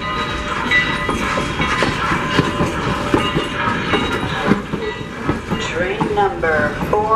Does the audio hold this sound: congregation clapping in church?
no